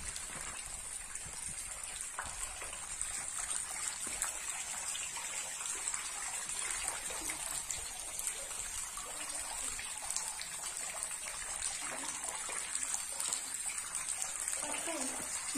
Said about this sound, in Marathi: डोंगरातले बारीक बारीक झरे इकडे तिकडे असलेले पाण्यावरती वाहत होते